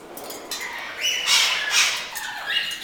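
A ruby macaw gives a few harsh, rising squawks near the microphone during a bird facility tour, loudest midway through and trailing off into softer calls.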